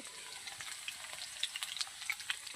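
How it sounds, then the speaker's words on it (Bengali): Soft, steady sizzling and crackling of potatoes frying in a pan with fish, with scattered small pops. "মাছ দিয়ে ধারে আলু ভাজা হচ্ছে"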